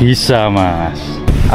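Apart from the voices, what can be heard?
No distinct noise like a dog, phone or traffic.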